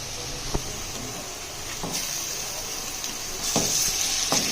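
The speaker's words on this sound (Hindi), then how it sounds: "अब हम इसमें कीमा ऐड कर देंगे।" Minced meat for dhaba-style aloo keema sizzles in hot oil with softened onions and spices in a karahi, a close, steady hiss with a few sharp pops and bursts of spattering.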